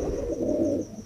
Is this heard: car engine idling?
no